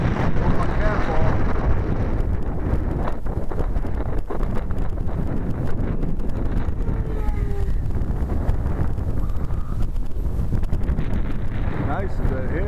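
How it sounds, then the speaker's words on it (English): Strong headwind gusts buffet the microphone at an RC flying field. The roar is loud and continuous throughout, and a voice is heard faintly under it. "a good headwind right now"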